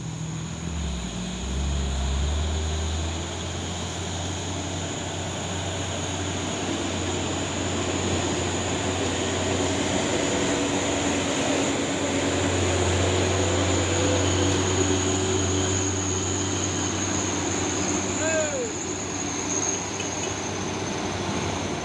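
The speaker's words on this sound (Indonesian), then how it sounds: "Lagi satu unit truk Hino Lohan TI." A Hino Lohan TI truck drives past on the road with a sustained, rumbling engine drone whose low hum shifts in pitch as it moves by, over steady road noise.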